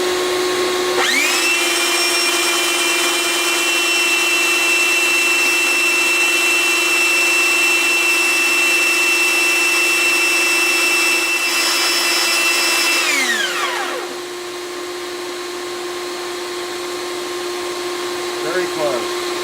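A power tool grinds down a bone saddle for an acoustic guitar, a loud steady whine with a constant hum that runs for about thirteen seconds and then winds down, leaving a quieter motor hum behind.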